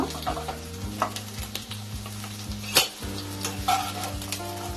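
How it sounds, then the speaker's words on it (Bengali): Pointed gourds (potol) fried in oil until reddish for Bengali potol korma. A close, crackling sizzle is punctuated by sharp spatula and pan clinks, over soft background music. "পটলগুলো লাল করে ভেজে নিয়েছি।"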